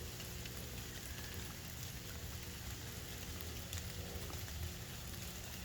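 Rain falls steadily outdoors at a fishing spot by the water, a soft, even patter and hiss that continues without a break, with no one talking.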